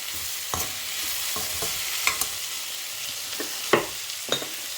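Onions and chopped tomato fry in a pan for a Tamil bachelor-style sambar, a steady sizzle broken by several sharp scrapes and clacks of a spoon stirring at close range.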